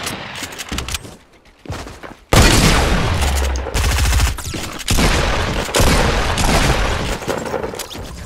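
Gunfire in the Fortnite video game, with quiet scattered shots and then a loud booming burst followed by repeated heavy volleys of rapid shots in close succession.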